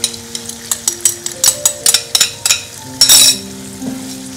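A utensil stirs egg curry with potato and green peas in a pan, giving a series of sharp metallic clinks and scrapes, loud and close, ending in a brief sizzling rush.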